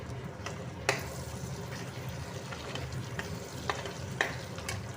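An egg dish fries and is stirred in a pan, giving a soft, even sizzle with a few distinct spatula scrapes and taps, close but fairly quiet.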